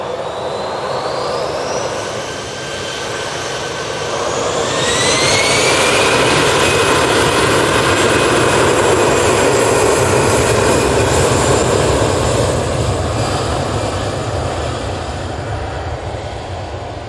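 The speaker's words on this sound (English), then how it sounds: "EasyJet now on the roll, off to Bilbao" An EasyJet jet airliner makes its takeoff roll at Manchester Airport, bound for Bilbao. Engine noise rises with a climbing whine and then holds as a loud, sustained roar, with no talk.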